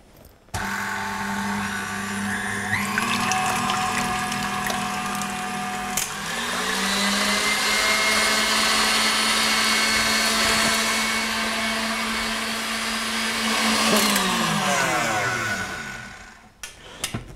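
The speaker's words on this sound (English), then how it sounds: "Now I'm going to do this on a mixing machine because it's actually going to take forever by hand." Electric mixing machine whisking egg whites with sugar: a loud, steady motor whine with a rattling beater that holds for over fifteen seconds, rising in pitch as it starts and winding down at the end.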